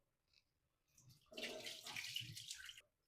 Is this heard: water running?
yes